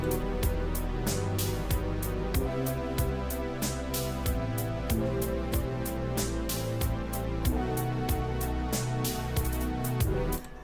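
A full R&B electronic track with a steady beat and a deep, low bass line moving an octave lower under repeating synth chords and bright percussion hits.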